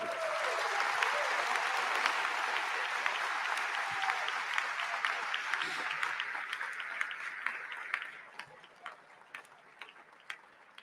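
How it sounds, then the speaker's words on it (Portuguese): An audience applauds at a university inauguration speech for the UFBA, dense sustained clapping for about eight seconds that then thins to a few scattered claps. "Aplausos."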